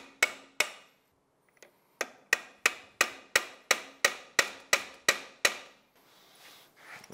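Metal lock tabs bent in over a bolt with a hammer during a Yamaha YXZ1000R bottom-end engine rebuild: two sharp taps, a short pause, then a steady run of about eleven crisp metallic strikes, close and loud.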